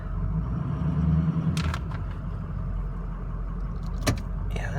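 A 2006 Ford F250 truck idles steadily with a low rumble while being shifted between four-wheel-drive modes and gears, with a couple of brief mechanical clunks and clicks from the shifting partway through.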